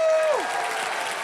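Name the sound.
studio audience applause on a game show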